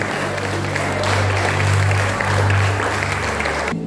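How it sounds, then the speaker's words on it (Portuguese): A church congregation applauding during a worship service, a broad steady clatter of clapping over a low sustained tone, ending abruptly. "Um aplauso ao Senhor"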